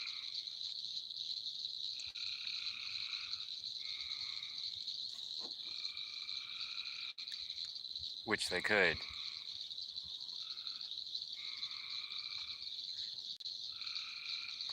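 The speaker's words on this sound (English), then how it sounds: "Can y'all hear those frogs," Frogs croak at night in repeating pulsed calls over a steady high trill, while someone talks briefly up close and a short loud rustle breaks in midway.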